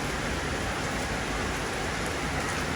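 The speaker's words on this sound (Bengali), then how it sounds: "দূরে শহরের এই বিল্ডিংগুলো অনেক বৃষ্টি পড়ছে, বৃষ্টির মুষলধারে বৃষ্টি" Heavy monsoon rain pours steadily over city buildings in Bangladesh during a storm, a dense, unbroken hiss that stays at an even level from start to finish, with no voices.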